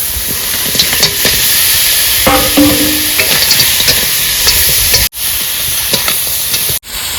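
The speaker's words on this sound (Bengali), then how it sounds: "এবার আলু আর কাঁকড়াটা দিয়ে দিই" Crab and potatoes frying in oil spiced with turmeric, cumin and coriander, cooked aboard a boat: a steady, loud hiss and sizzle with scattered stirring scrapes, broken by two brief dropouts.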